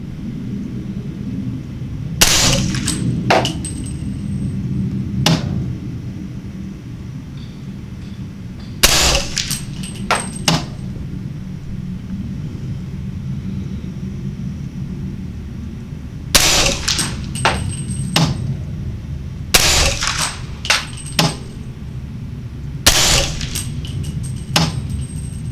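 Suppressed rifle shots through an AAC 762 suppressor with subsonic 220 grain ammunition, several sharp cracks in small spaced groups over a low outdoor rumble, each followed by metallic clatter.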